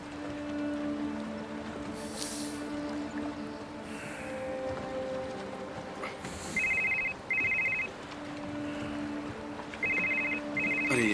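A telephone rings in a quiet room in a drama scene, with short repeated electronic bursts in two groups near the end over a low background hum and no talking.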